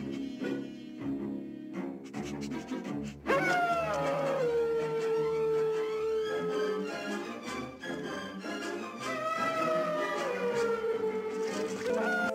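A bloodhound howls in a film scene, long sustained wavering howls that rise and fall across several seconds, loud and close over soft musical background.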